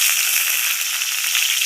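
Water spinach (shapla), freshly washed, hits hot oil in a pan with chopped green chillies and sizzles loudly and steadily, a dense continuous crackle with small pops throughout.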